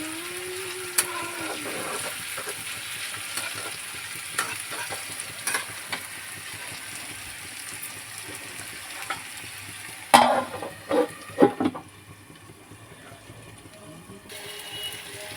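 Papaya and chickpea curry cooks in a pan with water sprinkled over it, a quiet, steady sizzle and soft stirring, with a burst of louder hissing and clatter partway through before settling.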